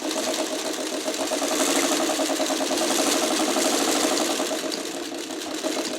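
A sewing machine runs steadily as it stitches quilt block strips for a pineapple block with a triangle center, a fast, even mechanical whir that continues without a break and stays close and moderately loud.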